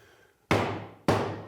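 A holdfast clamp is set on a wooden workbench with two sharp, resonant mallet strikes about half a second apart, each ringing briefly before fading.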